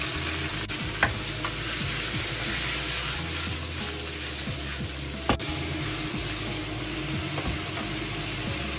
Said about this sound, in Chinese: 把莴笋倒下去。